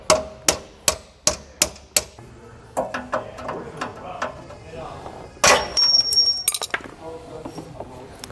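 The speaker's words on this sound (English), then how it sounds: "We're just going to lightly tap that bolt." A hammer lightly taps a tight bolt out of a jack stabilizer mount on a 2022 Jayco Jay Feather trailer: six sharp, evenly spaced metallic strikes, then softer irregular taps and a clatter of metal, with brief talk.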